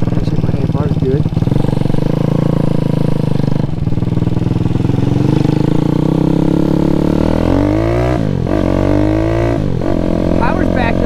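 A Grom clone minibike with a Daytona 212cc engine, on its first start and ride, running loud and close with repeated revs rising and falling over a rough idle; someone talks over it.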